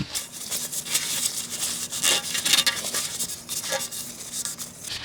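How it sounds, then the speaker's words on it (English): Spilled oil being wiped up with a cloth beneath a 2003–2007 Honda Accord, heard as close, uneven rubbing and scuffing strokes with soft swishes, with no talking. "now we're going to just go ahead and wipe this up"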